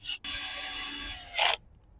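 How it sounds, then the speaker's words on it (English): A drain screw with a new washer is threaded back into the radiator of a BMW F650GS motorcycle, giving short rasping scrapes and a brief bright metallic squeak near the end, close and quiet. "now we're going to put this drain screw back on with a new washer"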